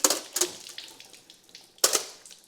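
Water pouring and splashing from a C10 Squarebody pickup's engine onto a shop floor, in a few sharp wet bursts with quieter trickling between them.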